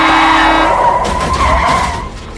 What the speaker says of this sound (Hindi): एक उल्टी तरफ से आती हुई गाड़ी ने टक्कर मार दी